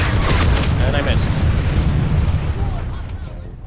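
RPG rocket launcher fires in a video game, a loud, booming blast with a rushing tail that gradually fades over a few seconds.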